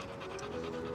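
A dog pants rapidly and continuously at close range, a steady rhythmic breathing with no talking over it.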